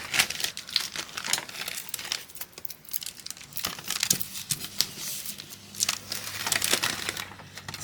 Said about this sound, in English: I'm gonna go ahead and use some heat tape and tape it down now.